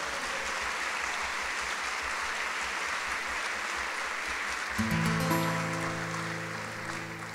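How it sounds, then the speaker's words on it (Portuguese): Steady applause from a fado performance audience in honour of the lyricist, continuing throughout, with sustained instrumental tones entering partway through. "o Mário Rainho, para quem eu peço uma salva de palmas."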